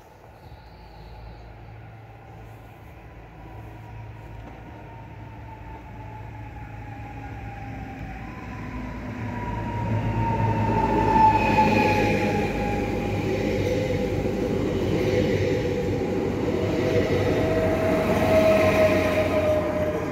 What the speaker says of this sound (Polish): Zobacz, jak będzie widać pociąg